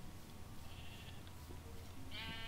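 Sheep bleating in the Minecraft video game, a couple of short synthetic bleats over a steady low background hum, moderately faint, with no talking.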